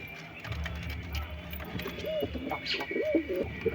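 Pigeons cooing nearby, several low warbling coos in the latter half over a soft background hum and faint murmurs.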